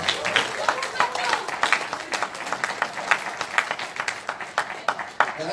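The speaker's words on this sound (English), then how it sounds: "So she deserves a big round of applause." Dense applause from the crowd at a student-led gun reform forum in Kenosha, Wisconsin, a steady wash of many hands clapping with sharper peaks throughout, with voices mixed in underneath.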